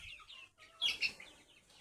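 A hen gives a few soft, brief clucks at a distance in an otherwise quiet setting.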